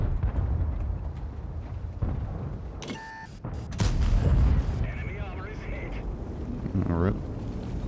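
In World of Tanks, an artillery shell slams into a tank with sharp, loud booming bursts around the middle, set among rumbling engine noise and game effects, while someone talks over the action.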